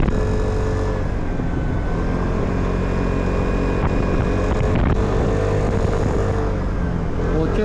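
A motorcycle races fast downhill on the Marilaque road near Tanay, Rizal, its engine roar and rushing wind forming a loud, unbroken wash of noise from start to finish.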